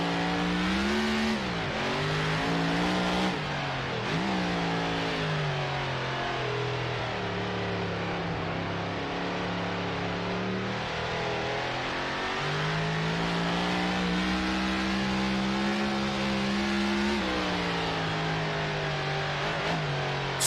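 A 1930s prewar race car engine drones steadily in Assetto Corsa, its low gear-driven tone climbing and dipping through repeated revs and shifts as the car is eased around a circuit, loud and without talk.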